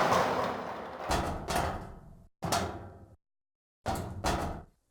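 A heavy door in The Stanley Parable, the Half-Life 2 mod version, opens with a series of loud, close mechanical clunks and grinding bursts separated by short silences.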